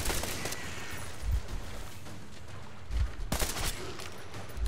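New pistol fired in the Metro video game, Tales of Artyom, a few sharp reports spaced roughly a second or two apart over a steady noisy background, with a louder burst near the end.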